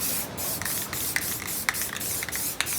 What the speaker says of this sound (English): we're just at the point here we're going to throw some rust conditioner on there